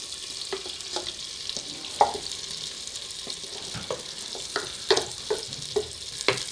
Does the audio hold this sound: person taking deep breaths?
no